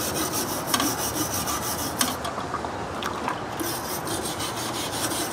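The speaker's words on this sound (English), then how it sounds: "I just got a stainless steel wire brush here." Rust being scrubbed off metal with a stainless steel wire brush, a steady close rasping scrape with quick repeated strokes and a few sharper scratches.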